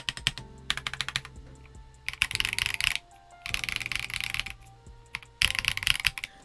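A stock Akko PC75B Plus V2 mechanical keyboard is typed on in quick bursts of crisp, close keystrokes separated by short pauses, with no one speaking.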